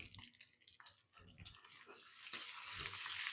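A kitchen tap runs while hands are rinsed under it, a soft splashing water hiss that swells and grows steadier and louder toward the end, with brief clatters at the start.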